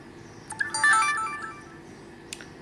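Short electronic chime from a Sony action camera powering on, a brief bright melodic beep sequence heard close and alone over faint background hiss.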